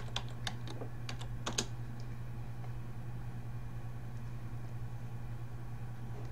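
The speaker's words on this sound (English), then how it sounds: "I'm just going to type in" Keystrokes on a computer keyboard as a library web address is entered, a short burst of several clicks in the first two seconds over a steady low hum, then only the hum.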